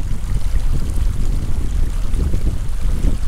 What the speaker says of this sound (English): Luckily, the wind is at my back.